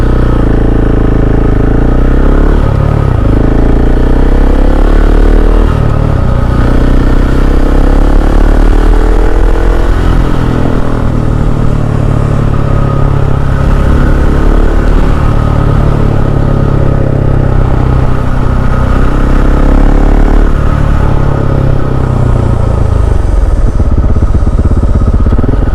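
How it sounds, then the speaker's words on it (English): A KTM 690 SMC R supermoto motorcycle ridden through city streets, its single-cylinder engine thrumming steadily up close with repeated revs and gear changes and a constant rumble throughout. "So just riding this motorcycle on the city streets here"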